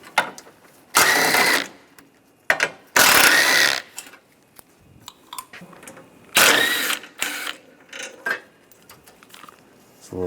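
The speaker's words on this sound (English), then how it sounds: "Now using a 10mm socket," A ratchet fitted with a 10mm socket loosens bolts on a 2010-2016 Cadillac SRX during radiator replacement, giving several bursts of rapid clicking separated by pauses and softer handling noises.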